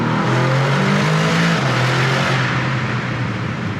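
An Aston Martin DBX707 SUV engine revs hard and loud up close, a continuous roaring growl that rises and holds with no talking.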